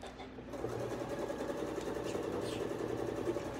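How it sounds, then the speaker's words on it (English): A domestic sewing machine runs steadily while stitching quilt pieces, a continuous close mechanical whirr with a rapid regular needle beat, alone and unbroken from start to finish. "I'll be able to start sewing the piecing part of it that's tricky."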